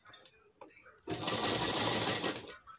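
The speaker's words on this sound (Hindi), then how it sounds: "यहाँ से हम गले से सिलाई लगाना शुरू करेंगे" After a moment of speech and soft handling, a sewing machine starts stitching along a blouse neckline, a loud, close, even whir lasting over a second before it stops.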